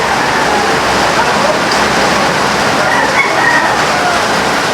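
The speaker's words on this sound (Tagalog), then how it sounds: "Grabe. Lakas na ng ulan." Heavy rain pours down steadily at a Philippine gamefowl farm, a loud, dense, unbroken roar of water that fills the whole stretch.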